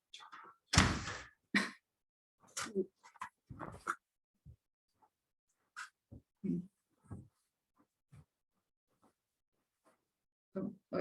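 An indoor room door opens or closes with a sharp thunk near the start, followed by scattered speech, faint dog sounds and small knocks in an otherwise quiet space.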